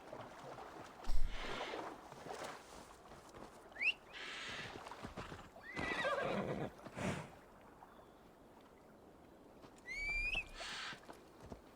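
A horse in the Assassin's Creed Valhalla video game gives several loud whinnies between stretches of quieter hoof and ambient game sound, with the calls spaced a few seconds apart.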